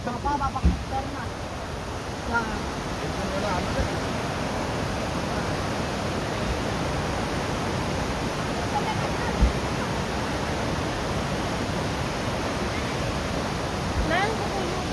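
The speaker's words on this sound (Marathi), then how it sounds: "आम्ही आलो खरं अशोका धबधबा." Ashoka waterfall seen from a viewpoint, a steady broadband roar of falling water filling the whole stretch, constant and unbroken, with faint voices of visitors now and then.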